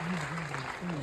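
An audience in Shanmukhananda Hall claps at a company celebration; the applause is fairly faint and continuous, with a steady low hum or voice running beneath it.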